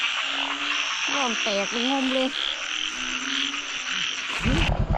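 Frogs croak loudly in a rain-soaked field during a Songkran-day downpour, with repeated rhythmic calls layered over a steady hiss of rain and nearby insects, and brief voices in the background.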